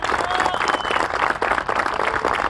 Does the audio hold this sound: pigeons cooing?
no